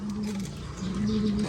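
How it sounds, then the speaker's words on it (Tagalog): Pigeons of Japanese breeder lines coo in low, rolling, repeated phrases close by, with faint chirps in the background. "Tingnan natin yung mga kalapati nila."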